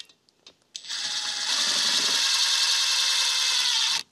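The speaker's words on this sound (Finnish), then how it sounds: "Kokeillaan tässä ensin tehdä tälleen nämä esireijät tähän." A drill bores pilot holes into aluminium for installing a heat pump defrost water controller, giving a close, steady high whir that runs for about three seconds after a few light taps, with no talking.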